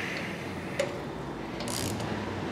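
Fuel pump adapter bolts are snugged down with a ratchet on a Chevrolet 454 big block engine. A short burst of quiet, close clicking ratchet sounds plays over low room noise, with a brief louder tick near the start.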